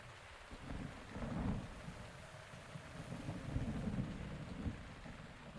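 Rain and thunder in the Zelda: Breath of the Wild game world, a steady wash of rainfall with low rolling thunder swelling and fading across several seconds, no voices.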